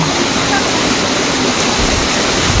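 Steady, loud rush of fast-flowing rain floodwater through a subdivision during a typhoon fills the whole stretch, a dense continuous roar with no pauses.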